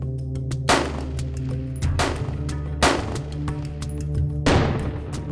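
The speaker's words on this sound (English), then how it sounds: "we're going to do a little shooting" Gunshots at a Civilian Marksmanship Program shooting range, four loud, sharp reports spaced about a second apart over a steady low hum, with no talking.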